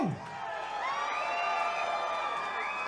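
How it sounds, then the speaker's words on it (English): A crowd at a live amateur fight event roars continuously before the final round, with whoops and high whistles rising over the steady din. "As the crowd is getting loud, getting ready for round 3 of Harrison Reymond and Justin Cruse"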